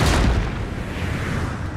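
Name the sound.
cannon shot in Total War: Napoleon video game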